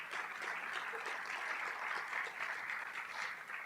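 An audience at a State of the University address at the University of St. Thomas applauds steadily, a dense wash of many clapping hands heard from a middle distance for a few seconds with no talk over it.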